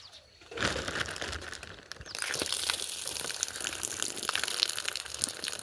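Rainwater gushes off a covered heap on a village farm after heavy morning rain, a splashing pour that swells in after a quieter start and runs continuously, with no talk over it.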